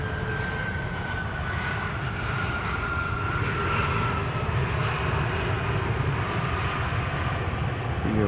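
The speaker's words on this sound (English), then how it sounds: "Your Bombardier Challenger." A Bombardier Challenger business jet at Minneapolis–St. Paul airport in winter produces a steady, continuous engine roar with a thin whine, moderately distant and unchanging over several seconds, without talk.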